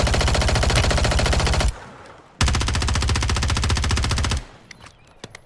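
Rapid automatic gunfire in Warzone Rebirth, two long loud close bursts separated by a short gap, followed by scattered faint shots.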